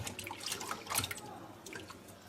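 Tap water runs and drips in a kitchen sink while sheep intestines (mumbar) are rinsed by hand, a soft, uneven splashing with scattered droplet ticks, fairly quiet and steady throughout.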